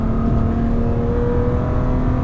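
A 600-horsepower turbocharged 2020 BMW M2 Competition on its stock exhaust, accelerating with a steady, loud, continuous engine drone and no breaks or voices.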